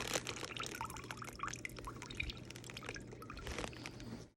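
Water is dumped out of a container after hydro dipping a glitter tumbler, a steady splashing pour and dribble lasting several seconds before tapering off quickly at the end.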